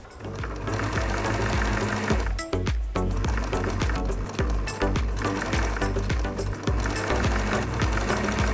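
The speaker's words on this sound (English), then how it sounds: "you have to finish off the stitching in this section" A sewing machine stitches a summer dress from a Simplicity 8085 pattern, running loud, steady and close with a fast mechanical chatter and one brief pause partway through.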